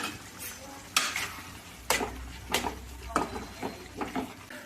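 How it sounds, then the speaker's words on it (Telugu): A spoon stirring thickening curry in a pan after chili powder goes in: soft scrapes and clinks against the metal every second or so, over a faint low sizzle, close and quiet. "ఇప్పుడు కారం వేసుకొని ఒకసారి తిప్పుకుందాం"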